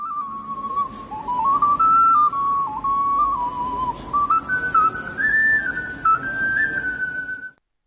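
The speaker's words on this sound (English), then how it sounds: "here's an example of me playing the ocarina before I learned some of the stuff I'm about to show you" A lone ocarina plays a wavering melody with pitch slides and an unsteady tone over faint background hiss, held notes running continuously for several seconds before stopping abruptly.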